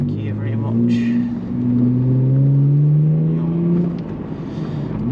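A Lexus car engine revs and rumbles steadily with rising and falling pitch, a person talking faintly over the exhaust drone.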